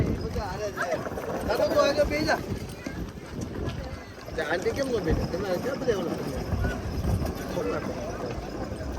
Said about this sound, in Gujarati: ઘોડા ઉપર બેહવાનું ચાલુ થઈ ગયું છે.